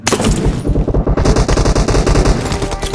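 Rapid automatic gunfire in the mobile battle game PUBG Mobile, loud and close, rattling in fast bursts with a brief pause near the start, then continuing without talk.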